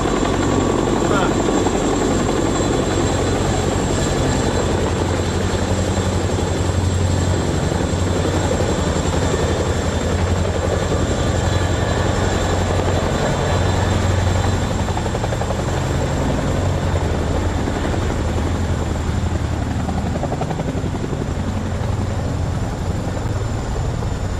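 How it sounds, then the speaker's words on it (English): A Chinook helicopter, its heavy twin-rotor thump and engine roar steady and loud throughout, with people talking faintly beneath it. "I'm right, it was a Chinook"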